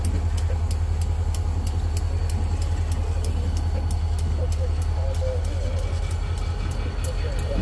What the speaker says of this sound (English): Love the sound of them diesel motors,